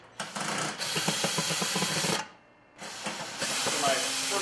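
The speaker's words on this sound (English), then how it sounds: "simply reverse the rotation of your drill, place it on the screws like so, and the inner ring will telescope out" Cordless drill running in reverse to turn screws on an adjustable two-gang box cover, a steady close motor whir that drops out briefly and then resumes, with a voice talking over it.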